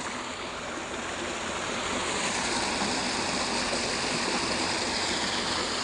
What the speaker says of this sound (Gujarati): તળાવમાં 5મી વાર પાણી આવી છે